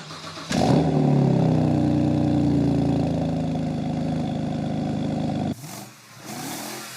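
A 2000s BMW engine with failing valve stem seals starts with a jolt, idles steadily with a low rough rumble for several seconds, then cuts out before a brief second revving burst.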